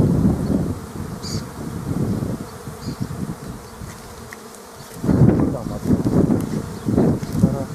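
A swarm of honeybees buzzing near an apiary, a dense continuous hum with wind rumble on the microphone and people talking over it in stretches.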